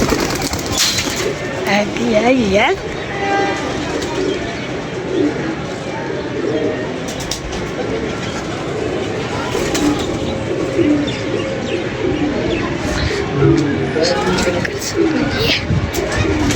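Pigeons coo softly amid outdoor ambience while people chat nearby, with occasional flutters and bird chirps throughout.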